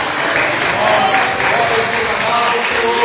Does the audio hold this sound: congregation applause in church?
yes